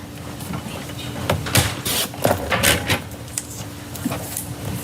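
Paper trimmer slicing strips of paper, a few short scraping swipes and clicks at close range, moderately loud, with quiet room background between cuts.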